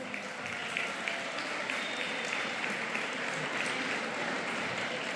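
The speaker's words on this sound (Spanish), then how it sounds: "Un aplauso, por favor." An audience applauds a panel at an event marking fifty years since the coup, a dense, steady wash of many hands clapping that continues evenly throughout.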